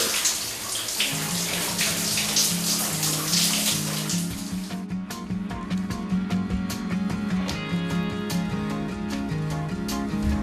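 A shower runs in a workplace washroom where a spray painter rinses off paint dust after a shift, making a continuous close hiss of falling water with splashing and ringing clatter, no voices.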